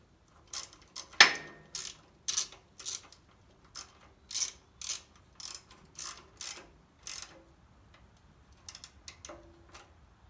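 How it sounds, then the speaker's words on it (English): A ratchet clicks in short bursts while snugging the top bolt of a belt guard on a 1969 Sears Suburban 12 diesel tractor, a dozen quick close ratcheting strokes with brief pauses between them. "Top one a snug with the ratchet."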